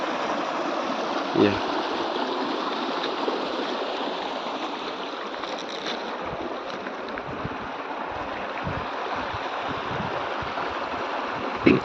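Clear mountain water flows in a stream in the Garhwal hills, a steady broadband rush that stays even and close from start to finish, with faint wind buffeting and no clear voices.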